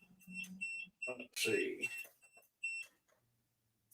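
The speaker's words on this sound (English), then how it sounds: "Turn the power back on. Alarms. So let's clear the alarms." Electronic machine alarms beep in short repeated tones after power is restored to the machine, broken up by close talk and a brief clunk partway through.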